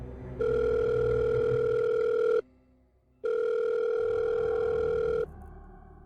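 An unanswered telephone call gives two long, steady ringback tones, each about two seconds long, separated by a short silent gap, heard alone and clearly up close.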